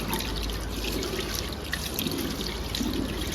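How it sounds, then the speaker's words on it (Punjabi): Water is lightly sprayed onto a drying face pack on the skin, making a soft, steady hiss and trickle that runs through the whole clip at low volume with no talking. "ਹੁਣ ਆਪਾਂ ਇਹਦੇ ਤੇ ਹਲਕਾ ਹਲਕਾ ਪਾਣੀ ਦਾ ਟਿੱਟਾ ਮਾਰਾਂਗੇ"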